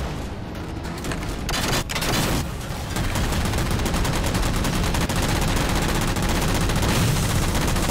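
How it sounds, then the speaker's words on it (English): Missiles firing in Halo 4 during a match: a dense, loud, continuous barrage of blasts and booms with heavy low rumble, running nearly the whole time with only a brief lull early on. "I shot like 5 friggin' missiles at that guy"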